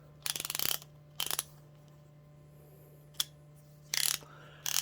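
A Cornwell USA 1/2-inch drive Soft Grip ratchet with an industrial finish, lightly oiled after running dry, gives several quick bursts of close, crisp clicking separated by short pauses, with one single click midway, and no voices.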